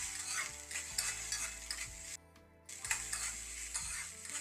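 A mixture with sugar being stirred in a pan for a quick savory snack, a steady scraping, rustling stir over a soft sizzle with brief pauses.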